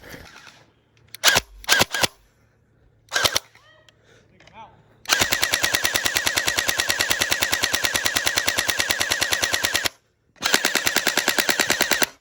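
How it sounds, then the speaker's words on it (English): A YAGEE DGR LEI gel blaster fires during a battle royale game, first in a few short bursts and single shots, then in long rapid full-auto strings of loud, close, evenly spaced clacks with a brief pause between them. "Yeah, I'm taking fire."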